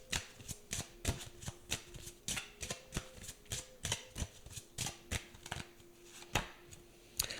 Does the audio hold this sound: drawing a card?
yes